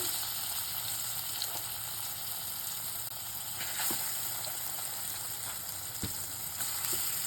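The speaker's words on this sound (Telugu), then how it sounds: "కొద్దిగా శనగపప్పు వెల్లుల్లి కరివేపాకు వేసి స్టవ్ ఆర్పేయాలి" Chana dal, garlic and curry leaves fry in oil for a tempering, a steady soft sizzle with occasional faint pops and clicks, no voices.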